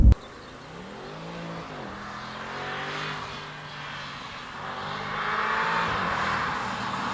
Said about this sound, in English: give it some more rumble, give it some more noise, because this V8 is beautiful